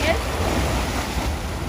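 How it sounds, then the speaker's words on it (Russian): Evening sea waves washing steadily near a small boat, a continuous broadband surge with wind rumble, close and moderately loud, no distinct breaks, lasting under two seconds. "На вечер поднялась хвиля."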